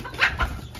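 A tethered rooster being fed grain gives a few short, close clucks, loud and clear with no talking over them.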